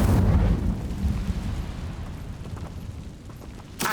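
An Incendio fire spell is cast in the Hogwarts Legacy game. It gives a loud, deep burst at the start that rumbles down into a lower, sustained roar, with a short sharp flare at the very end.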